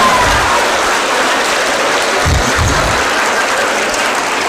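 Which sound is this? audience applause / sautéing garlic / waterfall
audience applause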